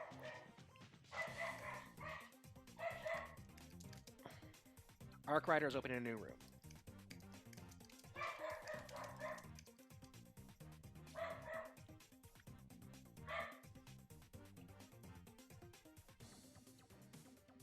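A pet dog yips and barks in several short bursts spread across the stretch, fairly near, with a person talking in between and over the barks.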